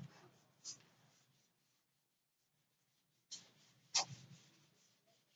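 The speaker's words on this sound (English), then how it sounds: "So I'll write here." Marker or chalk strokes on a board come in short scratchy bursts separated by a silent pause, close and fairly quiet, as a teacher writes out a maths note.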